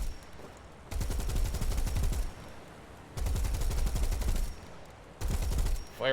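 A vehicle fires its three 15mm turret machine guns in War Thunder, unleashing three long, rapid bursts of loud gunfire separated by short pauses.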